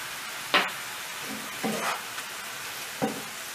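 Mushrooms frying in a pan over the highest heat, with a soft steady sizzle broken by a few louder scraping stirs of a spoon or spatula, close by and without talk.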